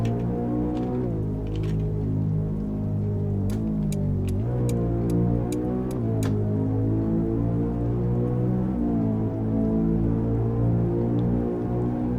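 Rain falls steadily in Euro Truck Simulator 2 while a modded Tofaş drives under it, with a continuous engine drone, shifting revs and a quick run of sharp ticks partway through.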